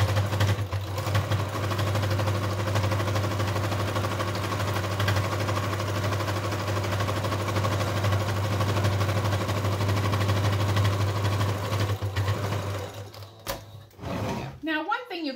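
A sewing machine stitching a thick fleece seam, running in a steady fast hum for about thirteen seconds before stopping, with speech at the end.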